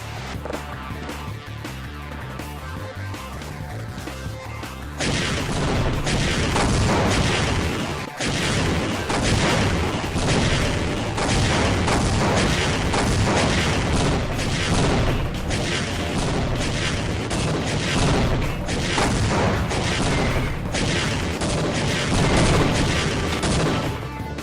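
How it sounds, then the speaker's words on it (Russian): Rocket launcher explosions from the Half-Life video game, obtained with a cheat: after a quieter stretch, a dense, loud barrage of booms and blasts rolls on almost without pause, with one brief gap. "Если с помощью чита приобрести ракетницу, то можно наблюдать вот такой эффект."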